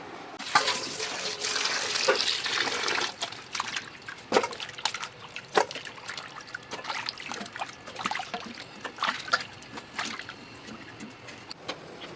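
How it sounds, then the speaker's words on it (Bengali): Chopped bamboo shoots being washed under running water, a steady tap stream with splashing and trickling, scattered clatters and bursts of handling, close and continuous with no talk. "বাঁশকুড় কাটা হয়ে গেছে, এখন ভালো করে ধুয়ে সিদ্ধ বসিয়ে দেব।"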